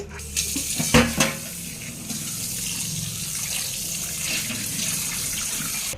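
Tap water runs steadily into a sink while a new kadai cooking pan is washed, with a couple of metallic clanks and splashes early on over the continuous rush of water.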